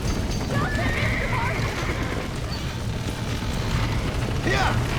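Horses in Red Dead Redemption, a sharp whinny near the end over a dense, continuous clatter of galloping hooves, loud and close, with voices shouting over the action.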